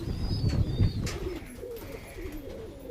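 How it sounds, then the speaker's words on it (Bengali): Pigeons coo softly in low, throaty murmurs in a pigeon loft, several overlapping calls close by, with a faint chirp now and then. "এই দেখুন পায়রা দেখুন"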